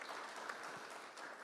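Audience applause at a circular economy launch event in Nairobi, a faint, distant wash of many hands clapping in a large room, steady and brief.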